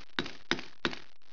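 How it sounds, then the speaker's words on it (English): A screwdriver is tapped against a split bushing in a 350 automatic transmission, giving three sharp metallic cracks spaced evenly about a third of a second apart, close and alone. "I'm gonna tap the screwdriver down in there. See if I can't just get a couple taps"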